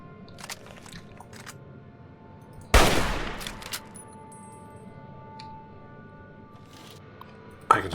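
Automated turret in Fallout 3 firing its machine gun: a sharp, loud burst with a ringing decay, then one more brief crack near the end, set against quiet game ambience.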